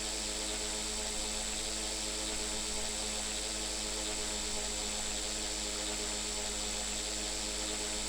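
A radio-controlled helicopter in the Phoenix RC flight simulator game makes a steady, droning rotor and engine buzz with a constant tonal whine, even and continuous throughout, with no voices.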